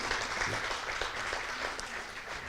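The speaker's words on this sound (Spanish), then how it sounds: "Dale un aplauso al Señor." Dense, steady applause from a church congregation during a Spanish-language sermon, a continuous broadband wash of many hands clapping at even loudness throughout, with no clear voices over it.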